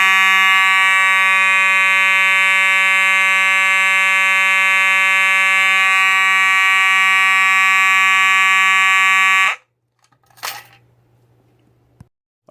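A fire alarm electronic horn strobe, model 4903-9219, sounds loudly and continuously under test for about nine seconds, then cuts off abruptly, leaving quiet with a brief clatter and a low hum.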